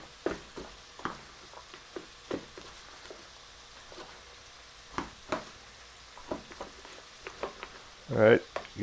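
Chestnut stuffing tossed with chicken stock in a dish, heard as a series of wet, irregular stirring and squelching bursts with short pauses, closing on a louder scrape.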